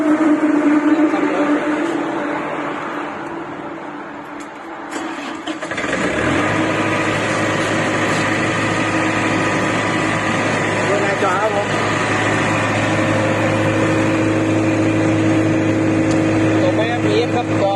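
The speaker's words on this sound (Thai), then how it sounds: "เป็นเครื่องดีเซลครับ" A Denyo 25 ES diesel generator sputters and catches, then settles into a steady, loud rumbling idle with a constant low drone and mechanical clatter.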